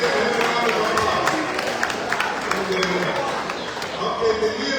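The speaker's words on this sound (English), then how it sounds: "Please give him a round of applause." Audience applause rings out for a child who answered correctly at a Ramadan gathering, a steady mass of clapping mixed with crowd murmur and voices talking throughout, moderately near and fairly loud for about five seconds.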